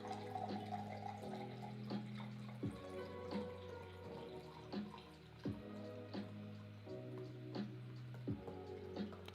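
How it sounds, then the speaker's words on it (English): Water poured into a glass in a quiet room, a soft trickle with faint drips and a few light clinks, close and fairly quiet, with no talking. "let me just pour a glass of water"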